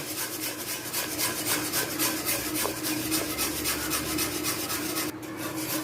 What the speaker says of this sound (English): So now I'm adding the cornmeal little at a time and keep stirring because you don't want it to get lumpy.